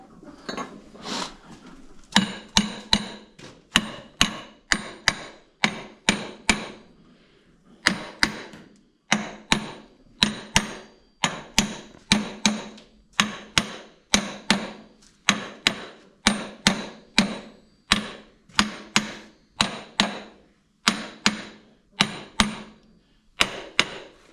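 Steady, loud hammer blows ring out in a regular rhythm, dozens of sharp metallic strikes close by with brief pauses between bursts, during work on a tractor's planetary gearbox.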